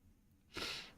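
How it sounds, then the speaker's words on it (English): A single loud, close sneeze bursts out midway through after a quiet stretch of soft breathing, followed by a brief airy tail. "Oh, that was a good sneeze."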